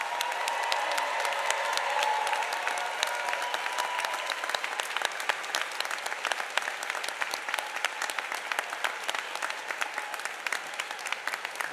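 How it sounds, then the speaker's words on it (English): A large commencement audience gives graduates a long, steady round of applause, a dense wash of clapping that holds at an even level throughout. "Please join me in giving these graduates a well-deserved round of applause."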